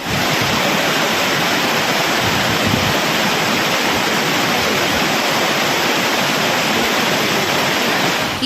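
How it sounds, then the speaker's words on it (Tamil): Floodwater crashes down the Courtallam waterfalls after heavy rain, a loud, steady roaring wash of falling water that stays broad and continuous throughout, heard close with no voices. "மேற்கு தொடர்ச்சி மலைப்பகுதிகளில் பெய்த மழையால் குற்றால அருவிகளில் கடும் வெள்ளப்பெருக்கு ஏற்பட்டதால்"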